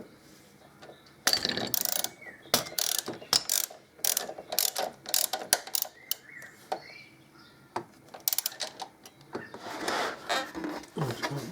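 Ratchet wrench with a socket extension working on the swingarm of a 2005 Electraglide motorcycle, bursts of rapid close clicking with pauses and metallic clunks between strokes, loud and near, without speech.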